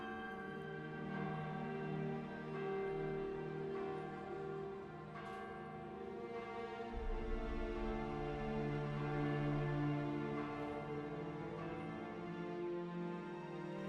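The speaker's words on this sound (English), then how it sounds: "ringing the church bell" A church bell rings steadily at a memorial for the Edmund Fitzgerald crew, its rich tones overlapping and sustaining throughout, with no voices present.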